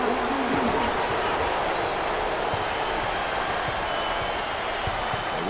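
Crowd at the 2024 NIT Championship basketball game between LSU and Villanova applauding, a sustained dense wash of clapping and cheering heard steadily throughout.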